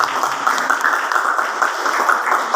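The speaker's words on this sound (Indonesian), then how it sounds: "Boleh tepuk tangan sekali." A small gathered audience claps together for a few seconds, a steady close round of applause without other sounds on top.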